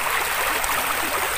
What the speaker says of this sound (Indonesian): yang sungai kecil nih di dekat saya ini teman-teman